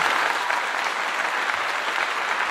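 A dense, steady burst of applause from a crowd, clapping continuously and evenly at a moderate distance throughout, with no speech over it.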